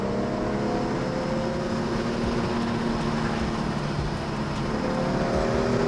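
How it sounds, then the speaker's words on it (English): A BMW E46 M3's S54 engine roars steadily with the window down on a road, a continuous loud drone under broadband road and wind noise, without pauses. "let's hear the roar of the S54"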